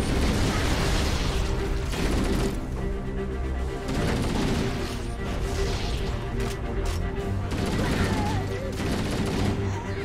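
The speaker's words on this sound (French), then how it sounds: "Grenade!" Gunfire and a grenade blast in the shooter game Halo: Combat Evolved Anniversary, a dense, loud barrage of shots and bursts running throughout with mechanical clatter mixed in.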